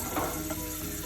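Garlic frying in oil for a tempering over whole brown masoor lentils gives a faint, steady sizzle with a couple of soft stirring scrapes.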